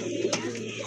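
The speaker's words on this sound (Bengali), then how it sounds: "হোয়াইট টাইগারের ভিতরে এক জোড়া ড্যানিশ কবুতর।" A pair of white tiger-colored Danish pigeons cooing, a short soft coo close by over low background hum.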